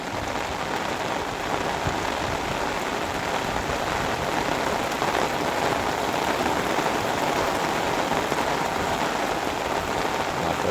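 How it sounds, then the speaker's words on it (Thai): Steady rain pours down continuously, a dense broadband hiss of drops hitting surfaces. It stays even and fairly loud for the whole stretch, with no voices. "ฝนก็ยังตกอยู่นะครับฝนยังตกอยู่"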